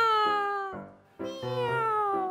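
A person imitates a cat's meow in a falsetto Chinese opera-style voice, sustained meowing tones with a brief dip in the middle before a second long, clear meow, alone without talk.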